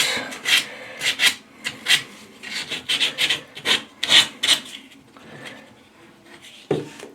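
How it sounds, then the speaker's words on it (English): Sandpaper of 100 to 200 grit rubbing back and forth during a bathtub faucet replacement, a series of close rasping strokes in uneven rhythm that fade out near the end. "take a nice piece of sandpaper, a high grit, like 100 to 200 grit, and then smooth all that out"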